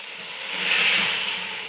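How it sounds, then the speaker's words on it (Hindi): Achari aloo gobi, potato and cauliflower, frying with fenugreek in a pan, a soft continuous sizzle that swells briefly and then eases, close and with no voices. "अब बाकी के जो 3 मिनट हैं वो हम मेथी के साथ इसको भूनेंगे।"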